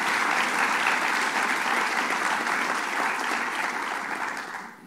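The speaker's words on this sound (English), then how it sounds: "let's give them a round of applause for the good work they did" Dense, steady applause from a large audience at a governor's legislation signing on heroin and opioid abuse, loud and continuous before tapering off at the end.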